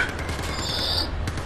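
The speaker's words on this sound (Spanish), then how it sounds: "¿estáis disparando aquí dentro?" Gunfire in a first-person shooter game comes as a quick burst of sharp shots inside a building, heard alone and loud.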